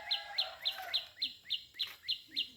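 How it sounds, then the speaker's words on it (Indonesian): A bird singing near a village among citrus plants in rural West Java, a close series of nine evenly spaced, sharp chirping notes repeated in a steady rhythm. "burung apaan itu sahabat ini?"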